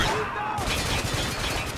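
A heavy machine gun turret fires in the shooter Spec Ops: The Line, a dense, loud burst of rapid gunfire with crashing impacts filling the whole short stretch.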